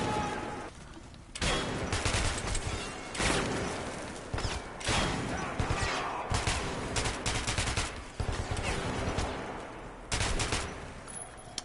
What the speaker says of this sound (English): Damn, these Nazis can shoot.